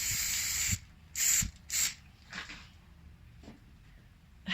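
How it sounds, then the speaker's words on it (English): Three short hissing bursts of clear acrylic spray onto a resin druzy, fairly close and loud, following a longer opening spray, with faint soft rustles between. "I'm going to just try spraying a little bit of clear acrylic on this side."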